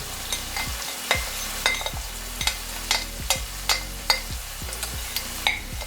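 Garlic, tomatoes and saltfish frying in a pan for ackee and saltfish, with a soft sizzle under repeated stirring clicks and scrapes of a utensil against the pan, close and regular.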